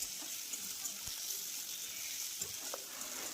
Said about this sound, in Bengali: তো খুব সুন্দর করে এটা কষার কাজ চলছে, তাড়াতাড়ি করে এটাকে কষে নিতে হবে ভালো করে